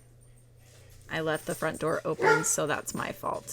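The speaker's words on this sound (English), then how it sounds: "I apologize if you can hear my dog barking." A dog barks indoors in a rapid run of loud, close yips and barks over about two and a half seconds, overlapping a person talking.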